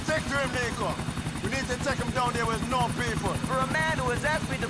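A helicopter in the video game GTA IV gives a steady, close rotor chop that runs through the whole stretch while someone talks continuously over it.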